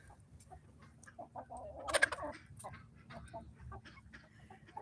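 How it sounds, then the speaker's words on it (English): A bantam rooster and a guinea fowl scuffle on a farm, giving sharp squawks and clucks with a loud flurry of cries about midway, over a steady backdrop of other fowl. "that's a rooster and a guinea fowl fighting"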